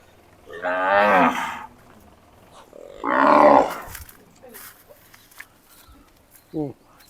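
Gir cows mooing at a large cow shelter: two long, deep moos a couple of seconds apart, close and clear, followed by a short low call near the end, with quiet farmyard ambience between.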